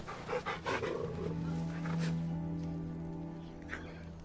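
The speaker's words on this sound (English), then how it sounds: "that is one monstrosity of a dog" A huge dog in Final Fantasy XVI pants in quick rhythmic breaths at the start, then gives way to a low steady hum and game ambience, with a voice talking over it at moderate level.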